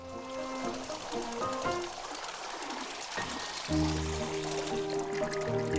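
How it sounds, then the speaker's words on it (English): Water poured into a tea machine in the video game Wanderstop, a steady liquid trickle and fill under soft game music tones, fairly clear and continuous throughout. "Pour water."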